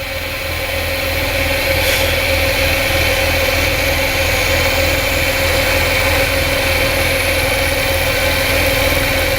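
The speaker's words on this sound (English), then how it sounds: "gotta really pay attention when I'm milling those and take light cuts" A milling machine cuts a lock bar slot with light passes, giving a steady, loud, continuous motor drone with an even grinding hum and no pauses.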